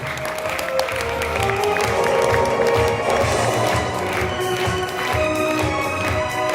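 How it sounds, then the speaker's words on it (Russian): Audience applause at a jubilee ballet concert, a dense steady clatter of many hands clapping in a hall, sustained and fairly loud throughout without pause. "Аплодисменты."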